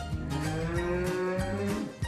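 A cow lowing in rural Auvergne, a couple of deep, drawn-out moos close by and fairly loud, with nothing else around.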